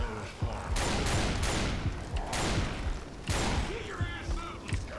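In Left 4 Dead 2, repeated gunshots crack out in dense bursts, a rapid volley, then a pause, then another loud round, with brief voices heard between the shots.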